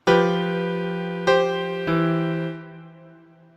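Sustained harmonic chord that shifts twice, a dissonant second resolving down to a third, played alone with a slow fade at the end.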